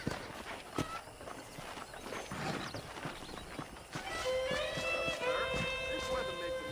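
A horse's hooves clip-clop at a steady walking pace in the Red Dead Redemption video game, with faint voices underneath and a horse whinny rising near the end.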